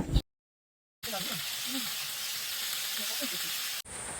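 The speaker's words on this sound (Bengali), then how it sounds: "এদিকে তেল গরম করে পটলগুলো দিয়ে দিলাম এটাকে হালকা করে আমি ভেজে নিব" Pointed gourd pieces frying in hot oil make a continuous close hiss and sizzle, interrupted by a short cut to silence near the start.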